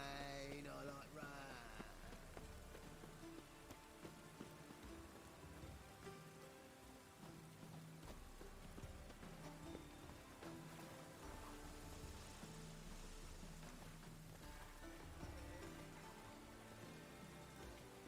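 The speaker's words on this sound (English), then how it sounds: "Rain, I like rain." Steady rain falls throughout in The Witcher 3: Hearts of Stone, a continuous hiss of drops on surfaces, blended with game music and ambience, with no talk.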